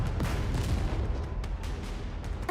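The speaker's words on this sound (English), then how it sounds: "An explosion rings out, causing the surroundings to shake." A rumbling explosion in the game Goddess of Victory: Nikke, a loud sustained low boom with crackling debris and shaking that fills the short moment, with no voices.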